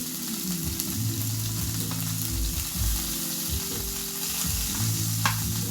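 Food sizzles and fries steadily in a pan, a continuous close crackling hiss with no talking throughout.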